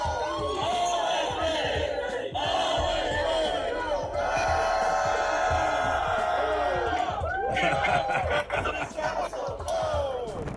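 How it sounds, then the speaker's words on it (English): A sports team shouts and cheers loudly in a continuous wave of whoops and hollers, their voices overlapping throughout with no break. "And a team going crazy in the background,"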